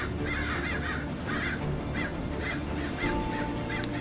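A group of crows caws repeatedly, a steady run of harsh calls at an even pace, somewhat distant, over constant outdoor background noise with no talking.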